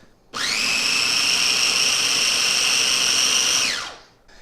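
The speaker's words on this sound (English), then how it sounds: "We want to blitz this up. If you have a hand blender, that's great. Use a Cuisinart." A hand blender whirs steadily for about three seconds as it purees cooked raspberries with sugar and water, starting abruptly and winding down at the end, loud and alone.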